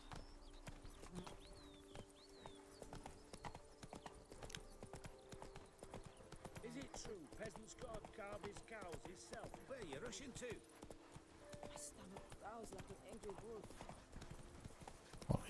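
Roach, a horse in The Witcher 3 Blood and Wine, walks with steady, quiet clip-clopping hooves. Someone talks over the rhythmic steps throughout.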